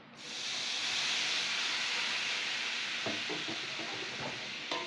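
Vinegar poured into a hot pan of cow trotters erupts into a loud, steady sizzling hiss that swells within the first half-second and holds, with a few clinks and stirring knocks near the end.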